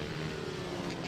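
Racing motorcycles pass on a track at a British minibike race at Red Lodge, their engines a steady mid-distance drone with a faint rising whine, continuous throughout.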